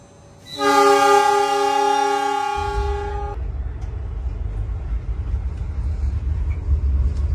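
A loud horn from the Argo Merbabu passenger train blasts for a few seconds at Semarang Tawang station, then a deep rumbling of the train getting underway continues steadily.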